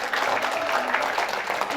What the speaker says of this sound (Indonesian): Kita beri tepuk tangan dari SMK Yosua.